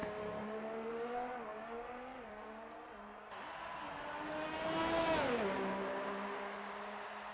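Race car engine in a racing video game climbing through the gears as the car runs its lap, a buzzing whine that dips at a shift, then surges and passes, fairly faint.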